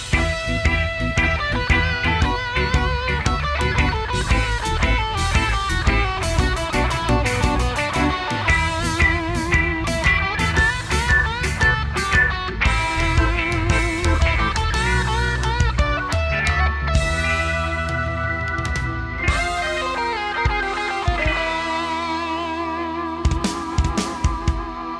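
The reggae-style track plays continuously at full level, with a dense steady beat and layered instruments, thinning out near the end.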